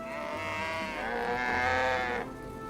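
Cow in the farming video game My Time at Portia gives a single long, drawn-out moo with a rising then falling tone, clear and alone against a faint background.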